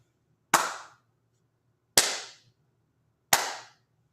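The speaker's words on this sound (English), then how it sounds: "So here, I'll just clap." Three sharp, close hand claps in a quiet room, each a crisp single crack spaced about one and a half seconds apart.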